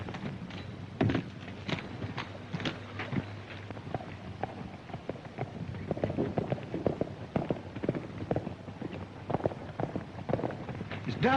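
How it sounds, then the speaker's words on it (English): Galloping horse hooves pound in a fast, uneven rhythm, fairly close, with thuds and rustling over a low rumble, in a 1940 western film. "It's Dusty's horse. Something's gone wrong"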